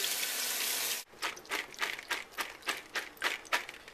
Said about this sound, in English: So the kidney beans should be drained and rinsed.